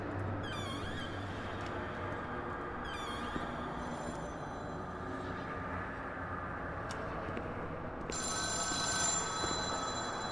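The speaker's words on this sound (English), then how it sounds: "A phone?" A telephone bell rings in short bursts against a steady background rumble, followed by a brighter sustained ringing near the end.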